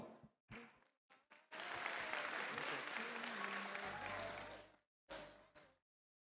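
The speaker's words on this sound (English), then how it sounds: "Let's give them a big round of applause." A gala audience applauds students at an international ramp walk in one full burst lasting a few seconds, framed by short scattered claps before and after, heard fairly faint.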